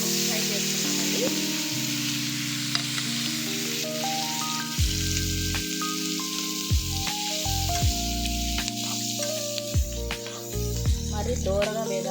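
Onions, ginger, garlic, green chillies and coriander sizzle steadily in a hot pan, a continuous frying hiss with occasional crackles, close and fairly loud, with background tones running underneath.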